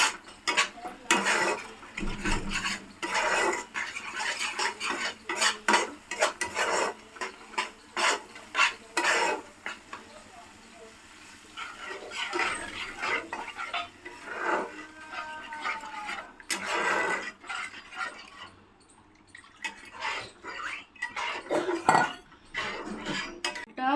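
Coconut milk stirred into prawn masala in a pan, with a spoon scraping and clinking against the metal in an irregular rhythm, close and fairly loud, alongside soft simmering.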